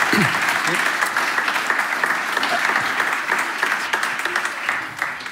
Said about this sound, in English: Please join me here with a round of applause for, for the panel.